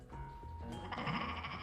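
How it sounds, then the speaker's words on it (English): A sheep in the Escape Plan video game on PlayStation Vita gives a clear, wavering bleat over a soft, droning game soundtrack, starting about halfway in and carrying to the end. "Come on, Mr. Sheepy."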